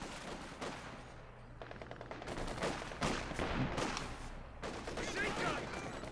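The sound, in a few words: gunfire in the video game Company of Heroes 2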